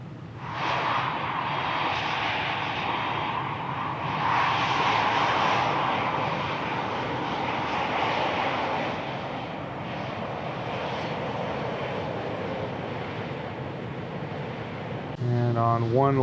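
A Boeing 737-800 jet arriving at Washington Dulles in Microsoft Flight Simulator 2020 gives a steady, loud engine roar that swells and fades, with someone talking over it.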